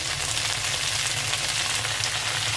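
Jute leaves fry in a pan with a steady, dense sizzle throughout, close and even, with no voices over it.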